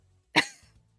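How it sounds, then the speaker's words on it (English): A single short, close cough, sharp at the start and trailing off quickly into quiet. "So if I'm coughing a little bit,"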